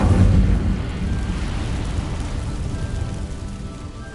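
An Incendio fire spell sets dry vines ablaze in the video game Hogwarts Legacy: a loud whooshing burst at the start that settles into a steady crackling roar of flames.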